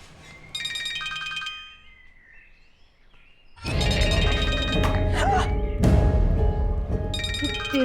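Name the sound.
mobile phone ringing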